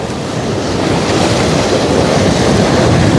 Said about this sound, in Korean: 앞쪽이 직벽처럼 돼 있어 가지고 파도가 부딪혀서 계속 올라오네요